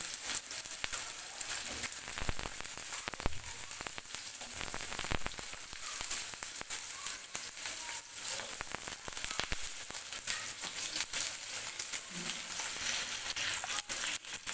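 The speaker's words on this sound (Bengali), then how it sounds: "রসুনটা কিছুটা লালচে হয়ে গেলে কেটে রাখা আলুগুলো দিয়ে দিব" Potatoes and garlic frying in hot mustard oil make a steady, close sizzle that runs unbroken the whole way through, with occasional faint stirring knocks and no voices.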